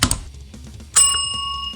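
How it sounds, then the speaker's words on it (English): A bright notification bell chime rings out once at a YouTube-style subscribe prompt, its sustained tones holding steadily after a soft clicking start. "ring the notification bell"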